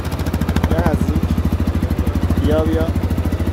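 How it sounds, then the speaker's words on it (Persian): Loud, steady throbbing of a Delta Rally 250cc motorcycle engine idling up close, its even pulsing beat continuous while a person speaks briefly over it. "خب صدای انجین رو ببینید که چقدر صداش کمتره نسبت به 225"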